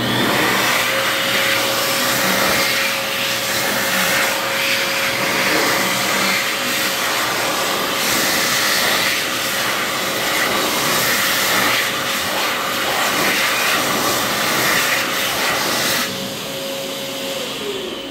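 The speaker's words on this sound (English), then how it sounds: "I'm glad I found a hand dryer like this." A World Dryer Verdedri V2 hand dryer in a Trader Joe's restroom in Garden City, NY, blows with a loud, steady broadband roar and faint tonal whine, running continuously before easing slightly near the end.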